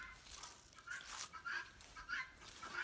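Several roosters and other fowl, with guinea fowl nearby, give repeated bursts of clucking and calling at a farmyard, at a moderate distance and fairly faint, rising and falling every half second or so with no talking.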